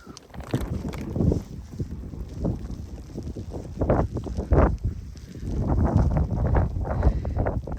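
Strong wind roars and gusts against the microphone during a blizzard at a snowy flower nursery, a steady rough buffeting that swells in bursts over low rumbling.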